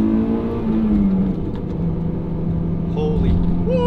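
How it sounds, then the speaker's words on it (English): A Honda S2000 engine drones and revs continuously while the car drifts sideways, loud and close throughout, with voices speaking over the engine noise. "Oh God, guys, the car's skirting around. We're drifting."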